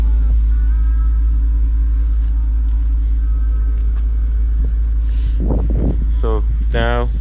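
A V10 Audi S6 idles after a cold start with a deep steady rumble close by, and a person starts talking over the engine near the end.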